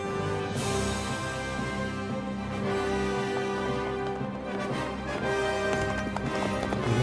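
In a medieval open-world game, hooves clatter in a quick galloping rhythm as a horse races away, over a steady layer of ambient music.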